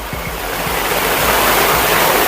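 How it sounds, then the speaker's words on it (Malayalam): Water gushes down over rocks at a hillside spot in Vagamon, Idukki, making a steady, loud, broadband rushing roar that holds evenly throughout, with no voices. "ഇവിടുന്ന് വെള്ളം കുത്തി ഒഴിച്ചു പോണോക്കി"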